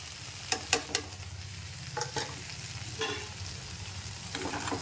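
Ground dry coconut, garlic and coriander powder fry in a pan with a soft, low crackle, stirred in a few short bursts of scraping; quiet and without talk.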